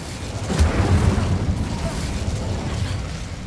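An Incendio fire spell in Hogwarts Legacy releases a deep booming blast that rolls into a low, rumbling whoosh and then fades.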